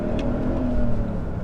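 A Mercedes CLK 430 V8 coupé accelerates with a steady, smooth engine drone and rising hum, heard from inside the car, continuous and fairly loud.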